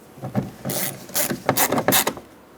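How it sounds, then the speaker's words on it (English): A Phillips head screw is driven by hand into a plastic door handle bezel on a 2011-2018 Ram 2500 during a tow mirror install, giving several close, bursty ratcheting and scraping turns with brief pauses between them. "so that you can now put in the Phillips head screw"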